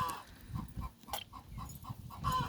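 Steady soft clucking and peeping from chicks and Muscovy ducklings close by, repeated in a quick rhythm, with no talking.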